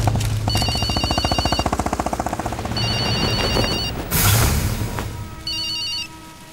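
A mobile phone rings three times in an action film, with bursts of a bright electronic ringtone standing out over rapid rattling gunfire-like clatter and loud scene noise.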